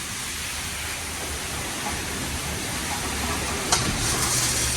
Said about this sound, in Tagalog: Car wash muna tayo. Bawasan natin ang ng dumi yung sasakyan.